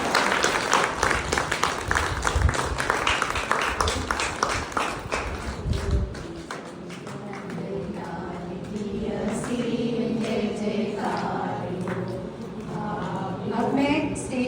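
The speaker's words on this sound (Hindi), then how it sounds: "तालियों के साथ" Audience applause at a Hindi book launch event, dense clapping for the first six seconds before fading into murmuring crowd and voices talking.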